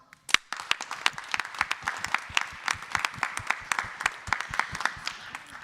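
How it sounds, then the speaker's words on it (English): Audience at a European Glut1 deficiency syndrome community meeting in Paris applauds, a moderately sized crowd clapping with sharp, distinct individual claps in an uneven but steady patter throughout, starting abruptly and staying at a moderate level. "We applaud for them, each and every one of them, for their fight on the daily."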